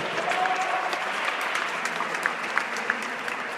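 An audience at a frontenis doubles final in Querétaro claps loudly and steadily, a dense, sustained wash of applause with scattered sharper claps standing out.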